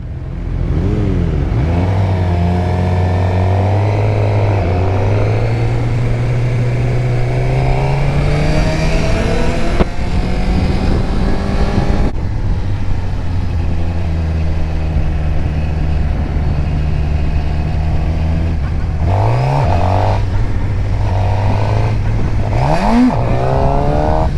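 Suzuki GSX-R 600 sport motorcycle revving hard for a wheelie attempt, the engine climbing and falling through repeated throttle blips with sharp surges near the end, loud and close throughout with no talk.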